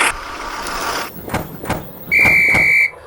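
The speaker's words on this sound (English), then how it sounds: "The guard's whistle blows and it's time for Thomas to continue on his journey" A guard's whistle at a train station in a Thomas and Friends toy railway story sounds one shrill, steady blast lasting under a second, loud and close, following a few soft clicks and rumbles.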